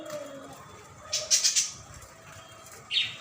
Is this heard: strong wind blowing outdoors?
no